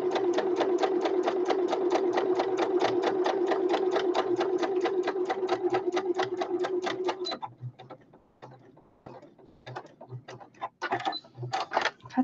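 A sewing machine stitches a fabric snippet basket on a sewing runner in a rapid, steady mechanical chatter for several seconds, then stops, leaving scattered clicks and small handling noises.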